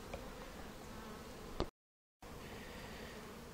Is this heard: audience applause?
no